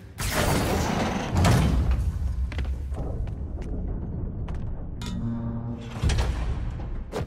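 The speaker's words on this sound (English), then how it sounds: "You were right, Jeff. Trap door." In the Spider-Man PS4 video game, a heavy trap door is worked open with mechanical clanks, scrapes and thuds that come in uneven bursts over a low background rumble.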